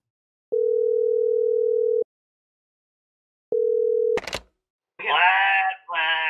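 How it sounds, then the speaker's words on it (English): A telephone line gives two steady single-pitch dial tone beeps, the first lasting about a second and a half and the second cut short, followed by a click and a voice speaking. "This is a phone call between Trump and Vladimir Putin."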